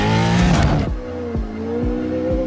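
An off-road racing truck roars past up close, its loud engine revving hard and then shifting pitch as it speeds away, with no other sound over it.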